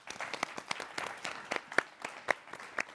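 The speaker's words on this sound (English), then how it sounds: "Let's give her a round of applause." Audience applause at a diversity event, a moderate round of individual claps heard clearly, uneven and scattered rather than dense, with no speech over it.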